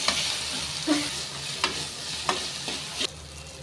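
Chopped tomato sizzles while frying in a pan for upma made with beaten rice, a steady hiss broken by a few soft clinks and scrapes of stirring.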